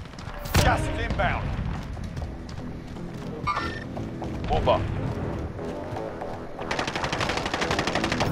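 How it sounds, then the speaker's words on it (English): Gunfire in a quads match of a shooter video game: loud bursts of automatic fire with sharp single shots, coming from close by and behind, with people talking over it. "we're getting shot from behind"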